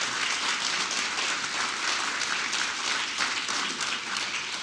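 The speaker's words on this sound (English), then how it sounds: "And can we have a round of applause for Dr." A dense, steady wash of audience applause at a Groundhog Day economic development summit, welcoming Dr. Walden, moderately loud and sustained throughout with no talk over it.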